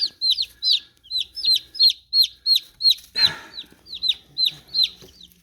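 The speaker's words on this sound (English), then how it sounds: "these are Rhode Island Red babies, the newest ones here" Rhode Island Red baby chicks cheep in a steady run of high, rising peeps, close and clear, with a brief rustling bump midway and no talking.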